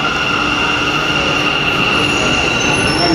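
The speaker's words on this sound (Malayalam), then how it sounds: "നമുക്കുള്ള വണ്ടിയാണ് ഇതാണ്ട് വന്നിരിക്കുന്നത്" A metro train pulls into an underground station with a steady loud roar and high wheel squeal. A sustained tone hangs over the rumble, close and continuous, with no talking.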